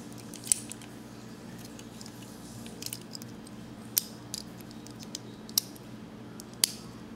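Sharp plastic clicks come from a Transformers Generations Deluxe Cliffjumper toy being converted by hand. Several isolated snaps are spaced irregularly over a quiet background, with no talking.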